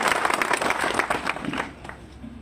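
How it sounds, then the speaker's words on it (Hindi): Applause from a crowd at a Kanker union meeting, a dense patter of clapping that gradually thins and fades over a couple of seconds. "अपने आप के लिए एक बार जोर से ताली बजा के अपने आप को गर्व कीजिए"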